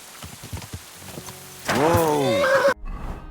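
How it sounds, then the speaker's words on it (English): A horse whinnies in Kingdom Come Deliverance 2, a loud, close neigh with falling pitch, preceded by footsteps or hoof clops and cut off abruptly. "Easy, good horse."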